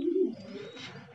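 A single low, soft coo comes from white Homer pigeons in a loft, brief and moderately quiet, followed by faint rustling.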